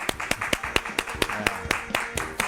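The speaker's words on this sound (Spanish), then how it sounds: "Le damos un aplauso con la bienvenida." Clapping for Mauricio Dayub sounds like a few sharp, evenly spaced claps rather than full crowd applause. The claps are close and steady, with voices talking faintly underneath.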